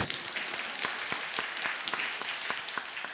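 Congregation applause during a Sunday church service, a dense spatter of hand claps with scattered louder individual claps standing out, steady in level throughout.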